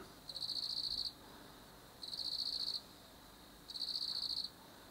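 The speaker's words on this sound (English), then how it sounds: "Listen to the cricket." A cricket chirps at night in three evenly spaced trilled bursts, each about a second long, steady and fairly close over a quiet background with no talking.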